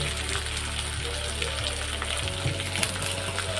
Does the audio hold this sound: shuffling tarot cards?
no